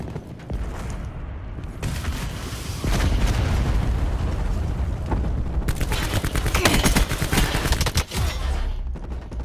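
Gunfire in Call of Duty: Black Ops 4 during Hardpoint multiplayer, with dense rapid bursts and booming shots, loud and continuous throughout, swelling in intensity near the end.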